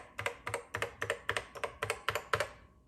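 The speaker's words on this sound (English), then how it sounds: "this keyboard actually feels very nice to type on" Someone types briskly on the original 1984 Macintosh keyboard, a mechanical board, with about a dozen crisp, clacky keystrokes in a quick, even rhythm, close and clear with no voices.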